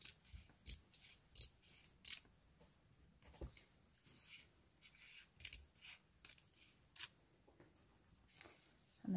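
Scissors snip along a drawn line, giving a series of short, quiet crisp cuts at an uneven pace with brief pauses as the paper is turned.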